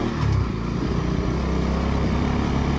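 A Bajaj NS200 motorcycle rides off-road on a steep, rough track. Its close engine gives a brief rev near the start, then settles into a steady, rumbling drone.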